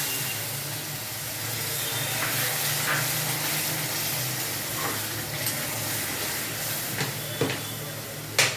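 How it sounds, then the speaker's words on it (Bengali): Spices for an egg curry sizzle and fry steadily in a pan, with occasional scraping clinks as they are stirred, a close, continuous crackling hiss throughout. "সমস্ত মশলাগুলোকে আমি নেড়ে চেড়ে এইভাবে ভেজে নিচ্ছি।"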